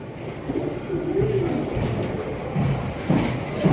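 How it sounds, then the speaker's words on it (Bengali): Soft, low coos from American pigeons repeat in short rolling bursts, nearby, with a steady background rumble underneath. "অরিজিনাল আমেরিকান করমোনা কবুতর দেখেন"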